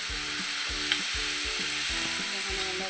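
Brinjal, onion and green chilli sauté in an oiled pan for a coconut-roasted brinjal theeyal, a steady sizzle broken by a regular rhythm of spatula scrapes and knocks against the pan, close and continuous with no talking.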